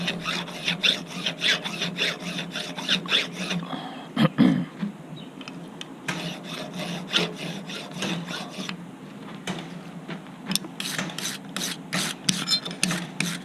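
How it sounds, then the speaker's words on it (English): A hacksaw cuts through metal during a brazed gear repair, steady back-and-forth strokes rasping close up in a regular rhythm, with a short pause partway through before the sawing resumes. "when you use a hacksaw, most people just go like this"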